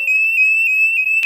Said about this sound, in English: Garage entry sensor triggered alarm.